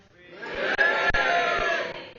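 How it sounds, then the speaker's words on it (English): Pub comedy crowd of drinkers cheering and whooping together, a swelling roar of voices rising quickly and holding loud for a couple of seconds. "Drinkers, give me a cheer."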